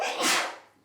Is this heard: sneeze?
yes